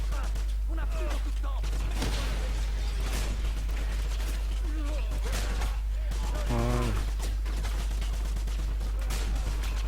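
Gunfire crackles continuously in the video game Wolfenstein, with dense repeated shots under muffled game sounds and a steady low hum.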